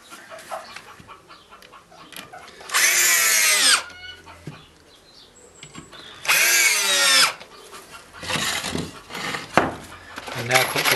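A power drill drives screws into pallet wood garden furniture in two loud whirring runs of about a second each. Quieter handling noises and a few shorter bursts fill the gaps between them.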